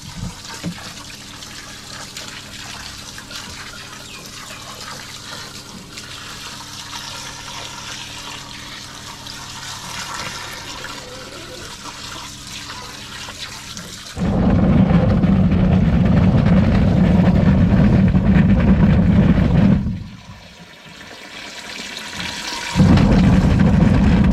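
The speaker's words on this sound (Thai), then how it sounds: "ใส่น้ำให้ขึ้นมาอีกสักหน่อย" Tap water runs into a container for washing galangal in a home kitchen, a steady rushing pour that starts partway through, briefly stops, then resumes loud and close.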